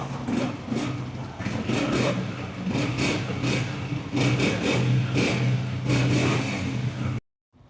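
A used Honda 125 motorcycle engine, model 12, revs repeatedly close by, with uneven throttle blips rising over a rough idle, then cuts off abruptly near the end.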